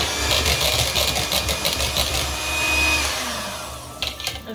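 Electric mixer blending cake batter for a Black Forest cake, a steady loud motor whine that runs continuously, then shifts and stutters near the end.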